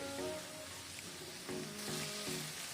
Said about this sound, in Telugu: అల్లం వెల్లుల్లి పేస్ట్ పచ్చి వాసన పోయేంత వరకు బాగా ఫ్రై చేయాలి